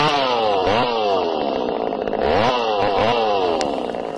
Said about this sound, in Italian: fai partire sta motosega.